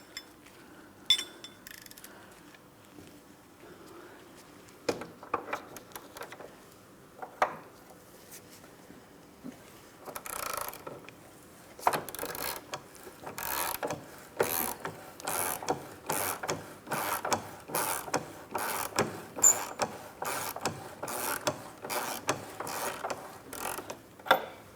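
A hand ratchet clicks in quick repeated strokes, loosening an 18mm mounting bolt on a rear trailing arm bracket of a 2004-2008 Grand Prix, faint and sparse at first, then denser and steadier.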